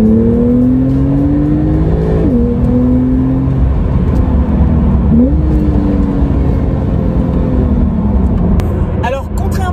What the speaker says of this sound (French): on entend plutôt bien le son du moteur